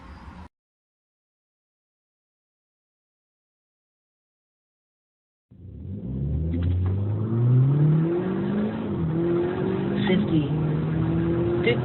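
A BMW with launch control from a transmission software flash revs hard after a silent gap, its engine note climbing and holding loud and close for several seconds.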